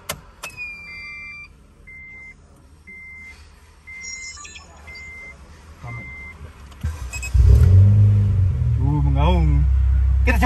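A few electronic beeps and soft clicks, then a Honda Brio turbo engine cranks and catches, settling into a loud, steady idle with a faint whine.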